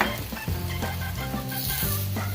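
Slit bologna slices fry in a pan with a loud, close, continuous sizzle and crackle that stays busy from start to finish.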